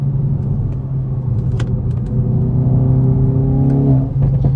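A Hyundai i20 N rally-style car engine rumbles close by, its pitch rising as it revs up and then dropping back, loud and continuous with no talking.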